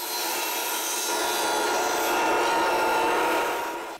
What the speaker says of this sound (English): I rip one of the supports down to 2 inches.